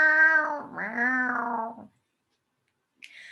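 A cat meows two drawn-out, wavering cries close by, followed by silence and then a brief faint squeak at the end.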